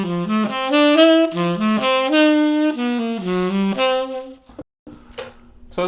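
A slow, deliberate run through a 3-6-2-5 turnaround, a single melodic instrument stepping through sustained, clearly separated notes. It plays alone, close and fairly loud, then stops, and a few faint scattered sounds follow.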